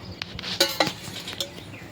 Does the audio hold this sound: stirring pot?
yes